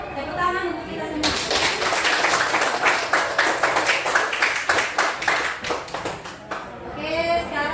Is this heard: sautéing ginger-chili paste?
no